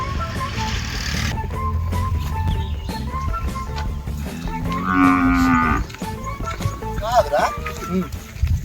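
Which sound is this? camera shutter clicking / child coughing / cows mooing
cows mooing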